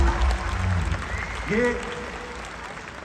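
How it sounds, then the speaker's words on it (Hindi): An audience at a live comedy show in the Bay Area, California, applauds the musicians in a brief burst of clapping that fades quickly, with a voice speaking over it. "मेरे म्यूजिशियन साथियों के लिए एक बार जोरदार ताली हो जाए"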